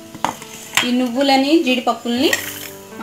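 Fenugreek leaves with egg masala frying over a low flame, with a soft sizzle under clattering utensils and pan scrapes and brief talking over the cooking.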